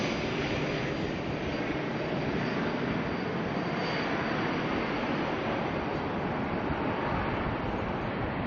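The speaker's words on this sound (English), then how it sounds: "this one here, the ATR, with the beautiful fuselage glow coming on in from Tauranga" An ATR turboprop airliner arriving from Tauranga at Auckland Airport gives a steady, broad engine roar, fairly loud and constant from start to finish with no voices.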